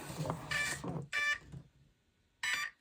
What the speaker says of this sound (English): Then once it beeps 3 times,